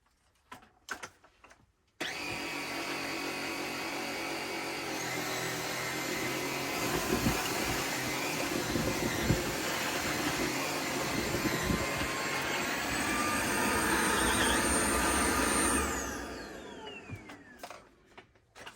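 A Tineco stick vacuum cleaner switches on and runs with a loud, steady whine while it sucks up pet fur, with rattling pickup noises, then spins down and falls quiet.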